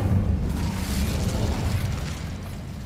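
A fire spell cast in the Hogwarts Legacy video game gives a sustained, roaring whoosh of flame with a rumbling low burst, loud and steady for about three seconds with no talk over it.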